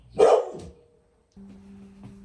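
A dog barks at other dogs walking past a house, a loud burst of a few barks close by, then quiet, followed by a steady low hum with a faint sound underneath.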